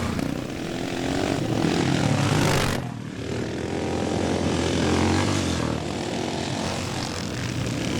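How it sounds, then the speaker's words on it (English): Classic dirt bike engines roar continuously at a scramble race, a loud sustained mechanical drone with rising and falling pitch as machines pass, briefly dipping before swelling again, with no talk. "a very good selection of riders and bikes in this second race here at the Scramble event"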